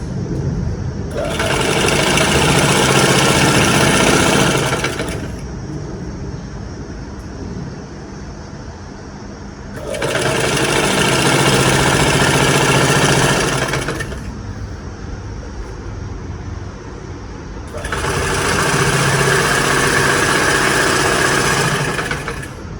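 A sewing machine stitching a frill onto a saree runs in three separate bursts of several seconds each, a loud, rapid mechanical whirr broken by short quiet pauses.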